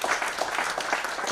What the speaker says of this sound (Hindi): ताली बजाओ इस बात, ताली कमजोर थी भाई, ताली बजाओ ना